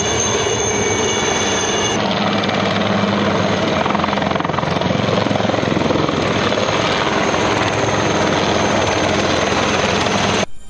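Army Chetak and Dhruv combat helicopters flying in a display at a combat aviation convocation ceremony in Nashik make a loud, continuous, close rotor-and-engine roar that fills the whole stretch with no other sound.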